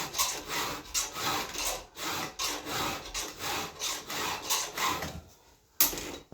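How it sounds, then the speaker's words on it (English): A file rasping across a chainsaw chain tooth in quick, rhythmic back-and-forth strokes, close and crisp, with a brief pause and a sharp knock near the end. "So I can file this back to 25 really quick because all I'm filing is this corner over here"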